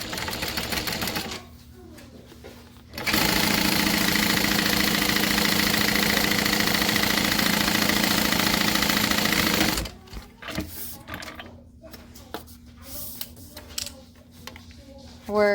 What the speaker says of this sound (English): We're going to sew across the top at a 3/8 of an inch seam